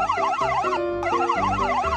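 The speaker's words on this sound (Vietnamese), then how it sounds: "Xe cứu thương quân đội." An army ambulance siren wails close and loud in a fast rising-and-falling two-tone pattern, repeating continuously with no voices.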